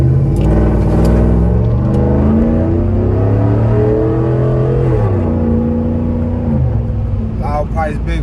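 A car with loud aftermarket exhaust pipes revs hard up close, a steady heavy roar rising and falling in pitch with each throttle blip, loud throughout and mostly alone.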